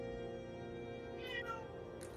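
A cat meows in a video game, one drawn-out, slightly rising call sounding loud and close over a steady droning background with no talk.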